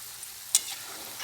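Pearl millet (kambu) pakoda deep frying in hot oil, a faint, steady close-up sizzle with one brief bright spatter midway and no talking.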